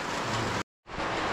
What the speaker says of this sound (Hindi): बारिश देखो भाई